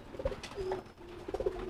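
Pigeons coo softly at close range, a few low throaty warbles in a quiet setting where pigeons are kept for sale, including homing and racing birds.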